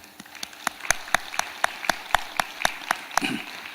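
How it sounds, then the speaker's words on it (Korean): Applause from a church congregation welcoming a deaconess who stands, heard as a run of regularly spaced sharp claps, fairly close and moderately loud, with no talking. "박예자 권사님 잠깐 일어나 주시면은 뜨거운 박수로 환영하도록 하겠습니다"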